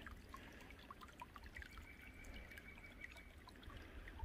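Water from a small mountain tributary stream in North Carolina flows in a soft, steady trickle, faint and continuous, with no talk.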